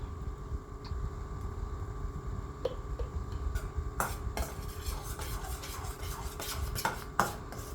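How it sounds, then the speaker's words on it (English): Spoon stirring egg yolk and mayonnaise in a bowl, a quiet close scraping and rubbing with a few sharper clinks against the bowl near the end, no talking. "stir to combine."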